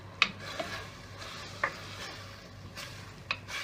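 Beef with ginger garlic paste, black pepper, turmeric and red chili powder fries quietly in a pan, a low sizzle broken by a few sharp clicks of a utensil against the pot.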